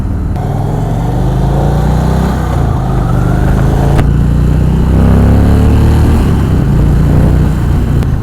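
An Indian Springfield Darkhorse motorcycle engine runs close and loud, a steady low rumble with slight shifts in pitch suggesting gentle throttle changes, heard alone without speech.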